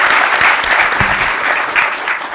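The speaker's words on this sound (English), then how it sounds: "I think she deserves a round of applause, right?" Audience applause at a youth-centred leadership forum, a steady dense round of clapping from a crowd, fairly loud and close, lasting the whole stretch with no talk over it.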